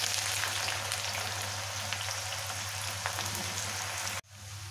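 Whole onions frying in well-heated oil for a gravy base, a loud steady sizzle with crackling spatters that cuts abruptly near the end, then a quieter sizzle resumes.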